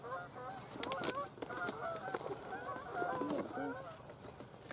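Geese honk repeatedly in a rough, overlapping chorus during a Georgia goose hunt outdoors, fairly close and steady, with faint wind and field noise underneath.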